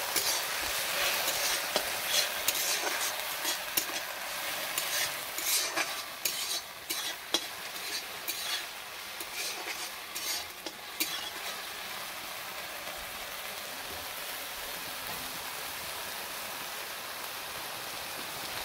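Onion, garlic and ginger paste fry in a pan with a steady bright sizzle, stirred by a utensil scraping and clacking for the first half before the sizzle continues alone.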